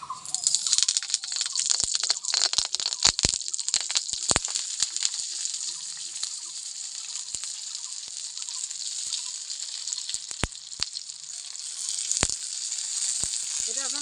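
Banana-leaf parcels of paneer paturi frying in a hot wok, a continuous bright sizzle broken by sharp crackles and pops, close and fairly loud, with no voices.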